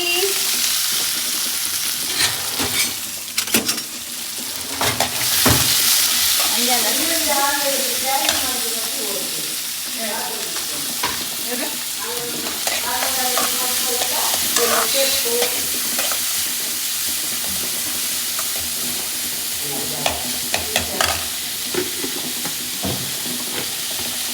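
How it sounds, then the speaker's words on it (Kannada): Cumin seeds crackle and onion fries in hot oil, making a loud, dense sizzle with irregular pops and stirring scrapes throughout, while a voice is briefly heard over it. "ಜೀರಾ ಚಟಪಟ ಅಂತಿದೆ."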